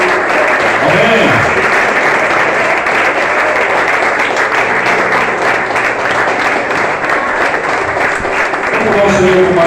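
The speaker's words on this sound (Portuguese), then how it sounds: "vamos dar para Ele uma forte salva de palmas, porque Ele é digno" A church congregation on a Sunday worship service claps loudly and steadily for nearly ten seconds, a dense roar of applause with some voices and music faintly mixed underneath.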